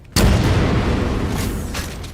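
A loud, sudden boom from an explosion in a Halo 4 mod with a Halo Infinite Scarab, hitting hard and then rolling into a long, dense rumbling decay, with no one talking.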